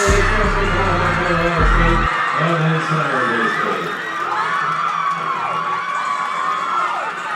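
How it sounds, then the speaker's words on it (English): At the end of a women's 400 m race at an outdoor Mountain West Championship, a crowd roars and cheers in a sustained wash of voices. Low thumping sounds in the opening two seconds, and excited shouts rise above the noise. "And look at them cheering."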